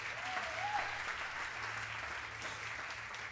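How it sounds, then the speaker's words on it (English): A pageant audience gives a round of applause to sponsors, a dense, even wash of clapping that continues at a steady level throughout, with a faint cheer early on and a low hum underneath. "Give them a round of applause, if you will."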